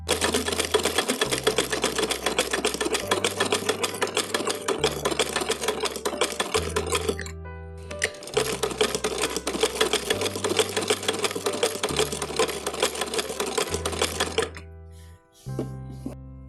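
A sewing machine stitches a seam on upcycled clothing, running in two long, steady, rapid rattling stretches. Each stretch ends with a short pause, and a few clicks follow at the end.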